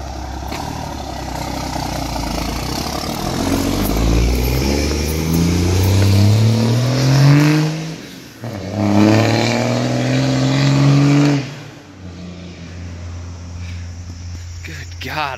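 A 12-valve Cummins diesel in a little red dually truck revs loudly and close by, its pitch climbing and dropping through two long pulls, with a sharp break between them.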